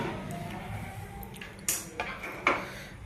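Roasted sesame seeds are moved onto a plate, with a few light metallic clinks and scraping taps over a soft background hum.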